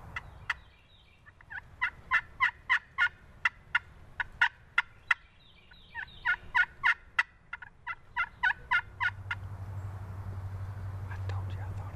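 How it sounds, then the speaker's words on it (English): Wild turkeys gobble from a thicket in a series of sharp, rapid bursts that come in repeated runs, fairly loud and close, with hushed voices and a low rumble underneath toward the end. "I told you I thought I heard turkeys go in there"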